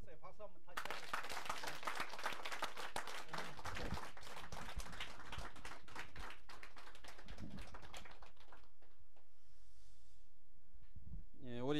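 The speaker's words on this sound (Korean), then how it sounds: "박수 한번 다시 해주세요." An audience breaks into dense, sustained applause lasting about seven seconds before it thins out and fades, with a voice starting up again right at the end.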